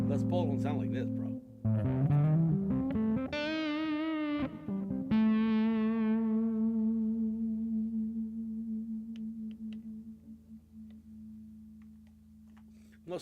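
Electric guitar played through distortion and modulation effects, a few heavy sustained chords and bending, warbling high notes that ring out and slowly fade, loud and up front with no voices over it.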